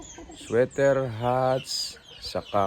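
Gamefowl at a game farm cluck and crow nearby in a few short, uneven bursts, with bits of background noise between calls.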